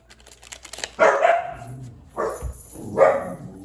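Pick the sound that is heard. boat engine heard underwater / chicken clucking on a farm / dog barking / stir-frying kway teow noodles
dog barking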